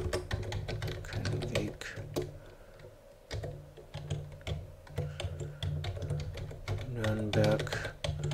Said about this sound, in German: Hier können wir dann wieder schreiben Herr Anton Müller.